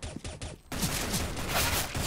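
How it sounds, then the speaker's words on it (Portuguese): Rapid bursts of automatic gunfire in Counter-Strike: Global Offensive rattle continuously after a brief quieter stretch, fairly distant and muted overall. "Olha os tiros todos"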